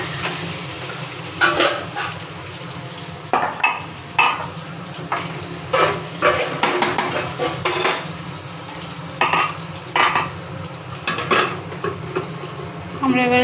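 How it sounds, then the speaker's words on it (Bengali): Potatoes fry in white oil in a pan, a continuous sizzle broken by repeated metallic scrapes and clanks of a spatula stirring against the pan, close and fairly loud, in irregular bursts over the whole stretch. "দেখুন আমরা যে আলুটা ভাজছি এটা আমরা সাদা তেলে ভাজছি।"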